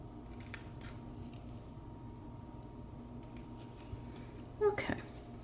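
Small scissors snip the roots of a Tolumnia orchid during repotting, a quiet faint hum underneath and a short burst of close snipping near the end.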